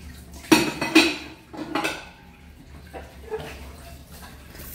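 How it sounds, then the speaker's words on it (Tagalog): Stacked ceramic plates clink and clatter together in a few sharp bursts close by, then settle into faint rattling, with no talk over them. "Mga na-stack na pinggan, magaganda."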